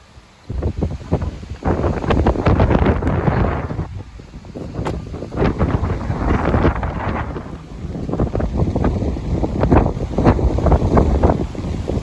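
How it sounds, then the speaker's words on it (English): Strong wind buffets the microphone in loud, continuous gusts, rumbling and roaring without a break, on a day of high winds in Southlake. "it is really, really windy"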